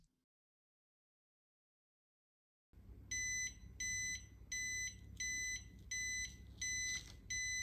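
A Flexispot standing desk keypad gives its alert: after a silent stretch, a run of about seven evenly spaced, high, clear beeps sounds close and loud over a low background hum.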